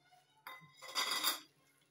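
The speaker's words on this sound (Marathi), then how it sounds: "तर हे शेंगदाणे आपण घालून घेऊया" Peanuts tumble into a metal pan of hot jaggery syrup for chikki, a short clattering rush of nuts against the pan following a brief knock, fairly quiet with no talk.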